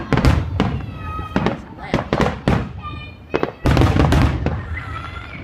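Neighborhood fireworks crackle and bang in rapid clusters on a summer night, loud and fairly near, with several sharp bursts and whistling trails while a person talks and exclaims over them.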